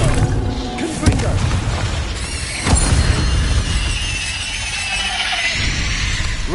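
Confringo fire spell in Hogwarts Legacy bursting with a couple of sharp, booming blasts inside a dense wash of game effects and background music.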